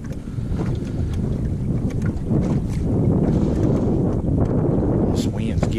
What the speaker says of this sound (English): This wind's giving me a fit right here.